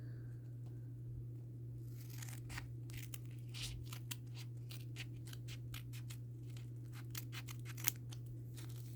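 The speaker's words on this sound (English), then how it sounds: "I think if I like cut it in half" A paper mockup for a garment top being cut in half with scissors, a quick series of close, crisp snips and paper rustles over a steady low electrical hum.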